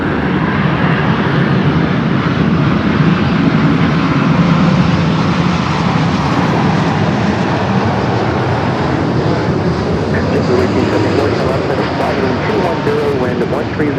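A heavy Boeing Dreamliner lands on runway 24 right at LAX, its engines a loud, continuous roar that holds throughout while voices talk on air traffic radio.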